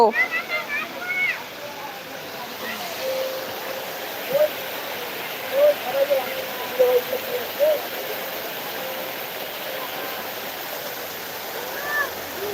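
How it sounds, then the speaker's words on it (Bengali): Waterfall at Chikli Water Park in Rangpur, Bangladesh: a steady, full rushing roar throughout, with brief high voices calling over it now and then. "এই দেখো বন্ধুরা কত সুন্দর ঝর্ণা"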